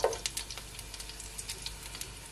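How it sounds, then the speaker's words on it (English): Onion hitting hot oil in a pan gives a bright, steady sizzle, with little crackles and pops scattered through it as it fries close by. "So to my pan, I add at least 1 tablespoon of my oil. So firstly, I'm just gonna add my onion."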